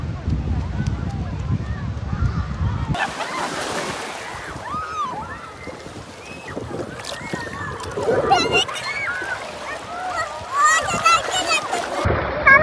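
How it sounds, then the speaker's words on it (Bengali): People jump into sea water at a beach, making loud splashes and sloshing surf, while excited voices shout and talk over the watery churn. "ঝাঁপ দিয়ে নামার সময় চলে আসছে"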